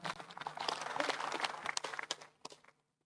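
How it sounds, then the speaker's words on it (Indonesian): A crowd of regional officials and attendees claps at a formal gathering, giving a dense, even patter of applause that builds briefly and then fades to silence near the end. "Terima kasih, tepuk tangan."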